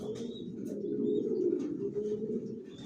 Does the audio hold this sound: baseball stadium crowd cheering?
no